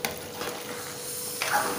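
Chopped onion sizzles in a hot pan for a tempering. Over a steady frying hiss, a few brief stirring scrapes sound close and fairly quiet, with no talking.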